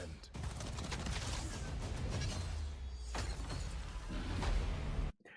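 Sustained gunfire crackles through a multiplayer video game shootout, with dense, loud overlapping bursts that pause briefly in the middle and then resume before cutting off abruptly.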